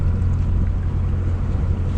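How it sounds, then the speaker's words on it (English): A sailboat's engine drones steadily at sea at night while crossing shipping lanes, a continuous low rumble with wind and water wash, loud and unbroken, with no voices. "Just put the engine on because we're coming across the top of the shipping lanes."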